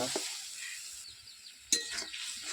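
Ginger paste sizzling in a pan of ghugni gravy with potato and peas, a soft steady hiss with a few light clinks of a stirring utensil and one sharp metallic tap.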